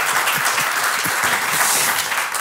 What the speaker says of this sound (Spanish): Un aplauso para Carlos Bautes, sí señor.